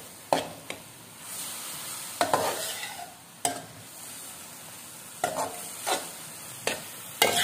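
Grated carrot and chopped green onion being stirred in a pan for chicken samosa filling: a soft background sizzle broken by several sharp spatula scrapes and clacks against the pan, spaced irregularly, with no talking.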